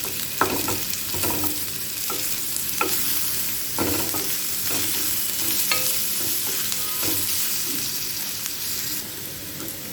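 Ginger garlic paste frying in a pan for veg fried rice, with a continuous loud sizzle and irregular scraping, tapping stir strokes from a spatula, close up and without speech.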